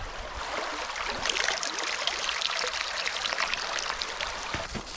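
Water flows beside a river while a soaked cycling glove drips, the scene dominated by a steady, hissing rush of moving water with small splashy trickles throughout, nearby and fairly loud.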